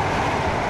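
A train in the Roblox game SCR (Stepford County Railway) near West Benton, a steady continuous rumble of rolling wheels and running noise, moderately loud throughout with no voices.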